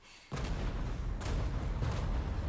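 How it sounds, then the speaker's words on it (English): The island blows up at the finale of Resident Evil 4, heavy booming explosions erupting after a brief quiet start, with repeated blasts and rumbling debris continuing loud and close. "the whole island's gonna blow up."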